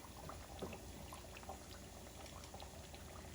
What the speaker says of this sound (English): now we're just gonna let that fry for about 5 minutes on each side